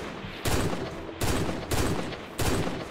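Sniper gunshots in a Minecraft hide-and-seek match: four sharp, loud blasts spaced irregularly about half a second apart, each cutting in suddenly and ringing briefly before the next.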